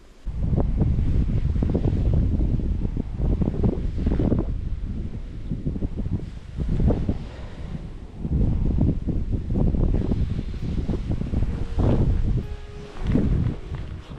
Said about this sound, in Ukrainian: розгулявся цей зимній противний вітер